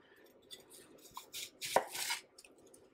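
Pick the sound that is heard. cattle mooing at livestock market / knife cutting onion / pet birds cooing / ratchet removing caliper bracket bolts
knife cutting onion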